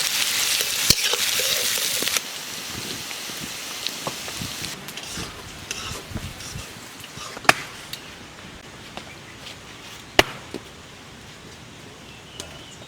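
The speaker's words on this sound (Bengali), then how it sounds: "পেঁয়াজ লাল লাল করে ভাজা হয়ে গেছে" Onions sizzle in oil left over from frying hilsa fish: a steady hiss and spatter, loudest in the first two seconds, then a softer continuous frying sound with a few sharp clicks from a utensil.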